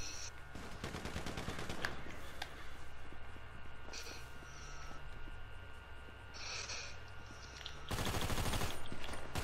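Rapid bursts of gunfire in GTA V Online crackle through much of the clip, with a louder sustained volley near the end over a steady background hum.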